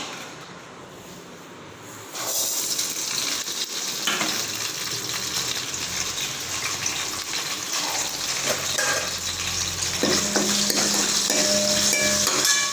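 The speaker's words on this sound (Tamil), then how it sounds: "கடுகு, கடலைப்பருப்பு எல்லாம் போட்டு தாளிச்சுக்கலாம்." Mustard seeds and chana dal hit hot oil for a mango pachadi tempering, bursting into a loud, steady sizzle after a quieter start and carrying on with stirring and crackling, no voices.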